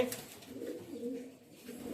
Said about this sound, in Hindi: ये उड़ने वाले कबूतर है